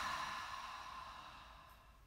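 A single slow, deep exhale during a calming breathing exercise, a soft airy breath that gradually fades away, heard close and alone with no talking.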